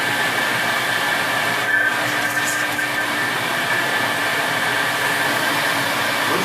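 Vintage Electrolux vacuum cleaner, either a 1973 model 500 or a 1983 model 560, runs loud and close with a steady whining motor drone and airy rush that hardly changes as it is pushed around.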